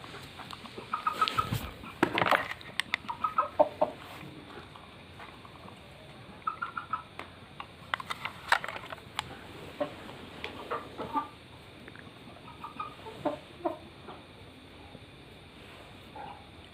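Broiler chickens, 65 days old and kept in a shed in winter, cluck in scattered soft bursts. The calls come and go over a quiet background, with some sharper calls standing out now and then.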